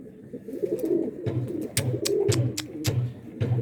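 Pigeon cooing close by, a male bird kept near another pigeon, giving a series of soft, low, rhythmic coos in regular bursts, with a few sharper bird chirps and clicks mixed in.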